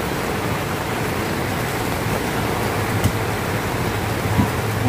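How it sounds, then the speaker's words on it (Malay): Heavy rain pours steadily at a Ramadan bazaar in Durian Tunggal, Melaka, a dense, loud hiss with faint thuds on tents and surfaces, continuous throughout. "kerana hujan lebat ketika ini"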